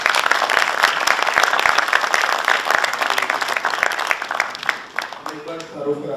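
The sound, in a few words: applause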